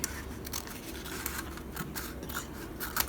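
Scissors snip a small fold of paper off a handmade tall envelope, giving close, quiet, repeated crisp cutting sounds with no talking.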